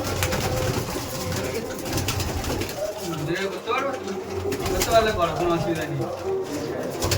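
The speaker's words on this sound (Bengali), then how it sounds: "এত ছটফট পায়রা এত অ্যাগ্রেসিভ বেবিগুলো" Madrasi pigeon chicks coo and stir in a loft, with soft repeated coos rising over a steady noisy background while people talk nearby.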